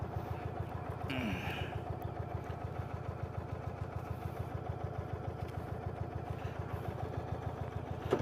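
A motorcycle engine idles in neutral, a steady, even low rumble holding close and constant with faint clatter, ahead of a relaxed country ride.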